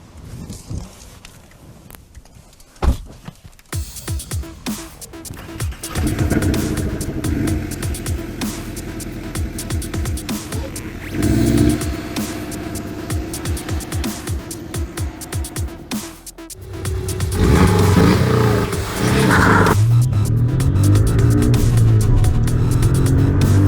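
A 2018 Porsche 718 Cayman S with manual gearbox on the road, its engine rumbling and building through several loud revving pulls with shifts between, heard close from inside the car with no talking.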